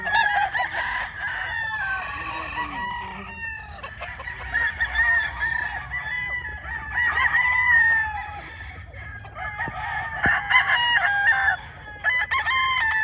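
A Gilmore Cross stag, a local bandage-type young rooster, crows repeatedly in a noisy poultry yard, its calls mixing with clucking and crowing from many other birds near and far.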